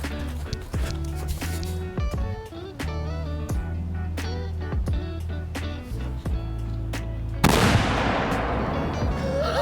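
A homemade black powder cannon loaded with a hefty charge and quarter-inch steel ball bearings fires outdoors at a tree stump, one heavy booming blast near the end after a stretch of quieter outdoor sounds with scattered clicks and knocks.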